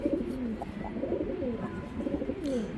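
A Kaldam pigeon cooing close by, repeated soft rolling coos in a steady rhythm over a low room hum.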